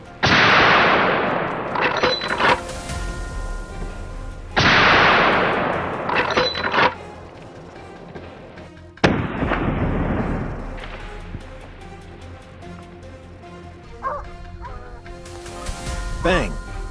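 Rifle shots ring out during a wild boar hunt on a farm, several sharp loud blasts each followed by a long rumbling echo and decay, close and dominant with no clear speech.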